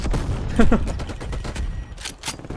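Classic Galil rifle fire in Call of Duty Warzone, rapid bursts of gunshots near and far crackling through the clip, with a player's excited voice talking over the shooting.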